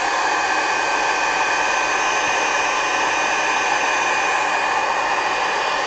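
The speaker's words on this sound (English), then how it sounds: "So use my hair dryer here." A hair dryer blows steadily and loudly throughout, heating and smoothing the surface of a sculpture, a constant broadband whoosh with no breaks and no talking.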